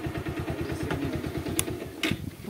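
A new motorcycle ridden by a learner runs with a low, rapid, even engine putter, fairly quiet and a little distant, with a couple of brief clatters.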